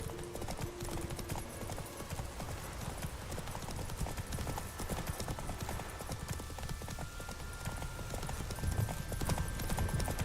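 Roach, Geralt's horse in The Witcher 3, gallops with a steady, rapid clip-clop of hooves that carries through the whole stretch at close range, over a dense game soundscape with brief voice and a soft whinny.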